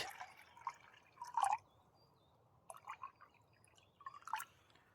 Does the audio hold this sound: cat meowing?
no